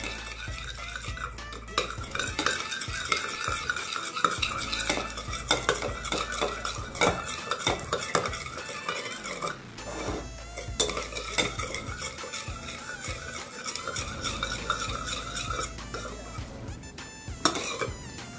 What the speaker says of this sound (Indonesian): Lalu kita aduk hingga tercampur merata antara kopi dan air mawar